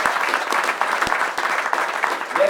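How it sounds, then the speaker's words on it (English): An audience applauds a soccer player's introduction, a steady wash of many hands clapping, fairly loud and close, with a few sharper individual claps standing out. "Eric Bruner, everybody, give him a round of applause."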